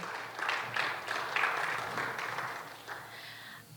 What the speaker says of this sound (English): may I request for a louder round of applause